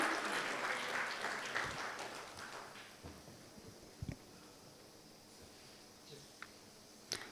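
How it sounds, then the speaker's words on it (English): An audience applauds panelists at the close of a governance conference session, a crowd of hands clapping loudly at first, then thinning over several seconds into a few scattered claps and quiet room noise. "can we have a huge round of applause for all our panelists and for this wonderful session that we've had so far."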